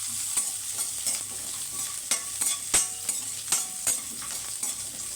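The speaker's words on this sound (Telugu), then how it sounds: "ఇవ్వండి, ఇట్లా వేయించుకోవాలండి, మాడకుండా. లో ఫ్లేమ్లో పెట్టుకోండి" Small onions frying slowly in a pan over a low flame, a steady soft sizzle broken by repeated scraping stirs of a spatula, close and moderately quiet with no voices.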